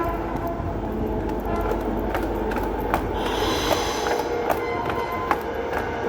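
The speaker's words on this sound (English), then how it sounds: "Okay, there's a train about to arrive actually." A train pulls into Perth station with a low, steady rumble and scattered clanks and clicks from the wheels and cars, fairly close and rising a little as it nears.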